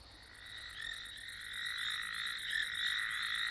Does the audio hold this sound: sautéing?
no